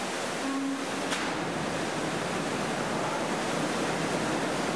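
Water of the Yerovnitsky cave stream rushes at a weir, a dense, steady, close roar of flowing water with no pauses.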